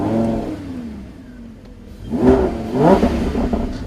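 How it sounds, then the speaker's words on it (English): A 2016 Lamborghini Huracan LP 610-4 idles, then revs twice in quick succession, close and loud, with its engine note rising sharply on each blip. "So now the car is running."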